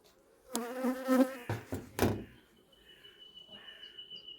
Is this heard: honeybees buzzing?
yes